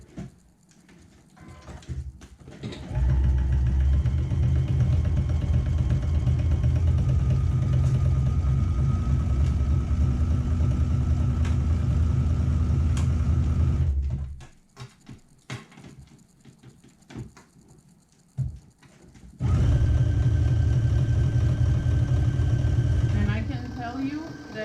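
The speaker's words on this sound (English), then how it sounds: "now we're going to be sewing just this part with a 3/8 of an inch seam allowance" Sewing machine stitching a 3/8 inch seam on a bra, a close steady mechanical whirr running for about ten seconds, a quiet pause with small handling sounds, then another steady run.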